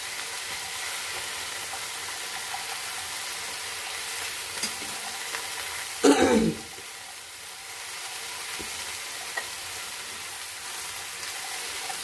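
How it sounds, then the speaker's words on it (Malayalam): Okra stir-fry, mezhukkupuratti, sizzles softly in a pan over a low flame, with a quiet continuous hiss and a short burst of scraping and clattering as it is stirred midway. "അപ്പം നമുക്കൊന്ന് ഇളക്കി കൊടുക്കാം മെഴുക്കുവരട്ടിയാണ് ഞാൻ ഉണ്ടാക്കുന്നത്"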